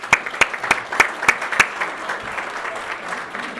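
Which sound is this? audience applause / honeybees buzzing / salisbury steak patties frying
audience applause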